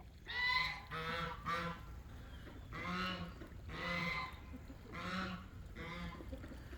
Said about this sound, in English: Looks like the geese have been messing around in it.